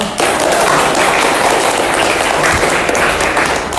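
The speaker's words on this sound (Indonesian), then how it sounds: "Beri tepuk tangan untuk kelompok 1" A classroom audience gives a group a burst of dense, sustained applause, loud and close throughout, with many hands clapping together and no talk over it.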